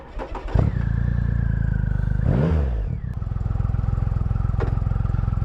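A 2017 Triumph Rocket III Roadster motorcycle engine idles with a steady, heavy rumble close by, swells briefly in a blip around the middle, then settles back into an even, throbbing idle.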